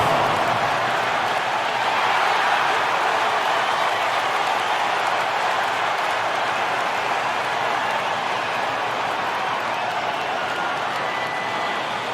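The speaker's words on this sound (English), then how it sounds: "Give yourself a round of applause." Steady, dense applause from a large crowd in a basketball video game, continuous and fairly loud throughout with no pauses or talking.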